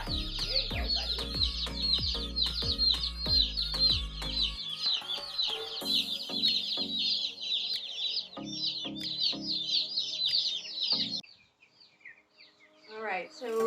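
Cornish Cross meat chicks peep and chirp steadily in a brooder, a dense, continuous chorus of high calls that stays close and loud, with talk over it and a low rhythmic thumping early on.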